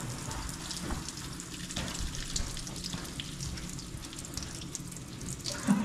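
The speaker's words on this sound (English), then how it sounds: "There was a copper water line right up against the drywall, and it just happened to be dead center where I was pushing that hole saw through." Water hisses and sprays from a copper supply line punctured by a hole saw behind drywall, a steady splashing rush with small spatters throughout, fairly faint.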